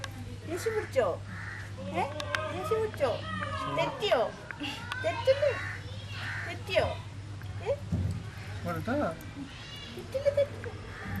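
A young crow chick that fell from its nest into a house compound caws repeatedly in short harsh bursts, close and loud, with voices talking around it and a steady low hum underneath.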